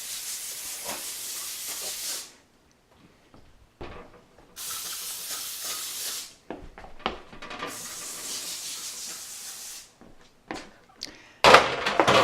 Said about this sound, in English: we are going to spray them with extra virgin olive oil